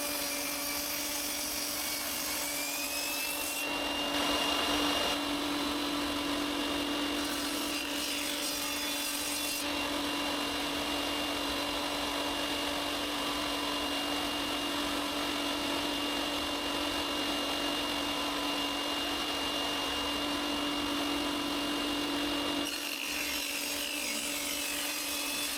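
A power saw cuts through purpleheart wood, a steady, loud whining drone that runs throughout with slight shifts in tone as the blade works the piece, close up with no talking.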